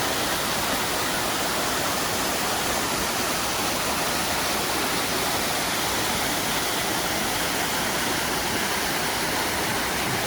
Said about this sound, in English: The water's really flowing today on Beaver Brook